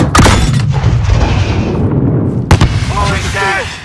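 Explosive detonation in Call of Duty Modern Warfare during an embassy battle, loud close booms with a sharp second blast midway, amid gunfire, with voices calling out over the fighting.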